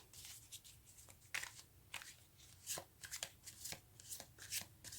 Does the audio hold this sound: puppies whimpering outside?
no